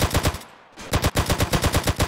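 Rapid automatic gunfire in GTA San Andreas Definitive Edition, loud and close, in steady bursts with a brief gap before resuming, no talking over it.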